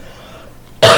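A single short, harsh cough bursts out loud and close at the very end, after near silence.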